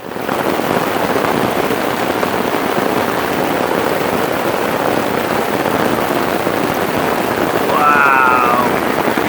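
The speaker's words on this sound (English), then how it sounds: "This rain is pounding down" A heavy downpour pounds steadily on a tarp and hammock camp outdoors, a loud dense hiss that swells slightly near the end, with a brief faint voice-like sound over it.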